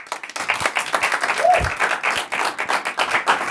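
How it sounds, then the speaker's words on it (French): A small group claps in a loose, rhythmic patter during a staged debate, moderately loud and close, with a brief voice breaking through midway. "Applaudissez, applaudissez."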